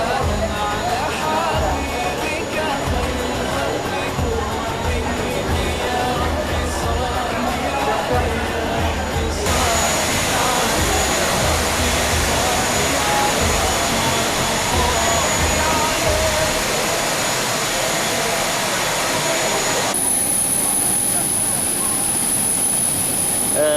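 Jet airliner engines drone before take-off, heard from inside an airport waiting room: a steady loud whine and roar that persists throughout, with tonal shifts partway through and a high whine near the end, as voices murmur underneath.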